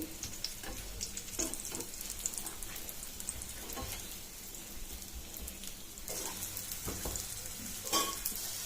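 Pieces of raw banana pan-fry on both sides for a pulusu gravy curry, making a soft, steady sizzle with a light crackle like rain. Faint utensil clicks and scrapes come through now and then.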